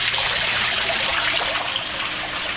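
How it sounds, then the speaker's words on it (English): Water from an aquaponics setup pours steadily back into a fish tank, a continuous close splashing trickle with no pauses and no talk. "they circulate the water back into this fish tank"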